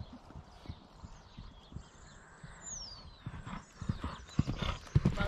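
A horse trots in a dressage arena, its hooves clip-clopping in a steady rhythm at moderate distance, with faint snorting and no talk over it.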